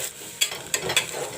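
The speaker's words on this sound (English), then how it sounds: "I will let the onions fry golden brown." Onions frying in a pan give a soft, steady sizzle, broken by a few sharp clicks and scrapes from stirring.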